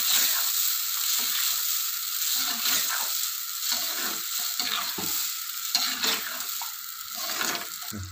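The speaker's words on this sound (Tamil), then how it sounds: "கொதித்த பிறகு இந்த கத்திரிக்காயை கடைஞ்சி வச்சுருக்க கத்திரிக்காயை தூக்கி அதில் போட்டுறோம். போட்டுட்டு நல்லா கிளறி விட்டுருணும்." Eggplant being stirred into a boiling Chidambaram kosthu gravy, a continuous soft sizzle and bubbling with scraping stir strokes throughout, fairly faint.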